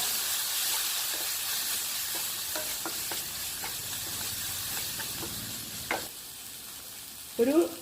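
Chili powder, black pepper and garam masala are stirred into an egg masala gravy in a hot pan, with a soft steady sizzle and a series of scraping spoon strokes and clinks.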